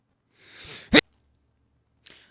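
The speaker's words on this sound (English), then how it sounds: "I gotta sneeze." A single close sneeze: a breathy inhale building up, then a sharp explosive burst, followed by a brief exhale after a pause.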